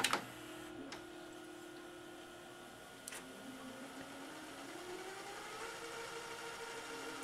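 A Magnavox Funai DVD-VCR combo's VHS mechanism fast-forwarding a tape gives off a steady, faint whir with a slowly rising motor tone, opening with a click and a brief tick partway through.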